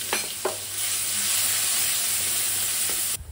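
Onion paste hitting hot oil tempered with nigella seeds, starting with a few clicks and then a loud, steady hiss of frying close up that cuts off sharply at the end.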